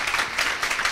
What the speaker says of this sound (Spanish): Un fuerte aplauso a Jesús. Give Jesus a great hand.